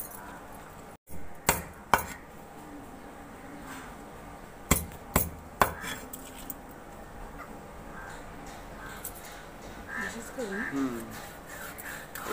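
Knife chopping through fresh fish on a board in a home kitchen, a few scattered sharp chops and knocks spread over the stretch, with quieter rubbing and handling sounds between them and someone talking throughout.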